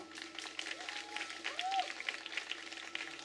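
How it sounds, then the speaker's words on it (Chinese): Audience applause and cheering at an outdoor live singing show in Taitung, a steady wash of clapping from a crowd with voices mixed in and a brief whistle-like tone rising over it. "掌声鼓励一下好不好？"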